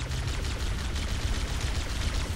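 Dense, continuous gunfire from the Halo video game, with rapid overlapping shots and blasts forming a loud, steady barrage with no pause and no voices.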